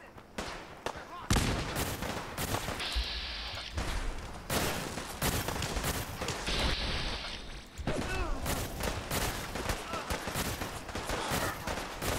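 Gunners open fire in Fallout 4, rapid automatic and single gunshots crackling loudly and continuously in overlapping bursts, with a few heavier impacts mixed in.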